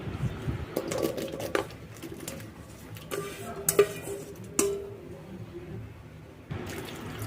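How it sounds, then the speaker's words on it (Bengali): Raw mangoes being dropped into a kadai, heard as a series of clunks and knocks against the metal pan with wet clatter, a cluster near the start and isolated thuds later, close and moderately loud. "এবার আমগুলো একটা কড়াইয়ের মধ্যে দিয়ে দেবো।"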